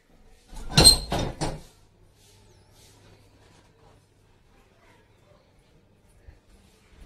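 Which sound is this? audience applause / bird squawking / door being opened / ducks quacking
door being opened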